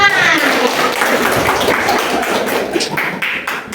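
A classroom of students claps together after rating a lesson, a dense, continuous patter of hands filling the room from start to finish, fairly loud and close.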